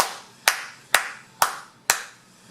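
Four sharp hand claps standing in for a kick drum, evenly spaced about half a second apart, each a loud close crack with a short decay, alone in a quiet room.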